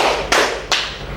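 A classroom of students performing a rhythmic clap routine, two sharp group claps spaced under half a second apart, loud and close with no talking.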